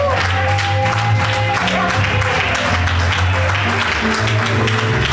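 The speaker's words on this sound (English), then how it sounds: "I'm putting my mic down and clap my hand." A crowd at a church revival claps hands together in a dense, loud wash of applause, with sustained tones and voices running underneath.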